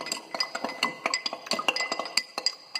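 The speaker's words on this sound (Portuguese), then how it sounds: "aqui com o bastão, que eu estou fazendo, agita a mistura água com óleo" A glass rod stirs a water and oil mixture in a glass container, giving a rapid series of light, bright clinks and taps against the glass, close and clear with no talking.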